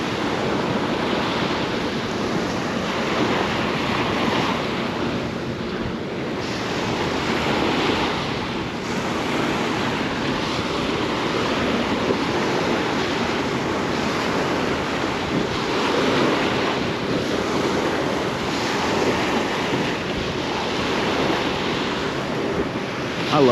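Steady ocean surf and gusting wind roar continuously at a fishing spot, with heavy wind buffeting on the microphone and no voices.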